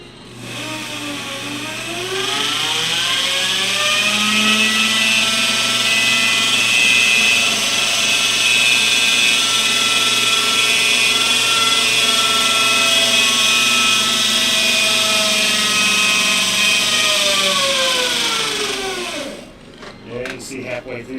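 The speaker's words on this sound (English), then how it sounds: "halfway through there is where I kind of gave up a little pressure on holding the drill, and it loosened up that coil just a bit" A power drill runs steadily for about eighteen seconds winding a coil, its motor whine ramping up at the start, holding a sustained pitch with slight wavering, then winding down near the end, loud and close.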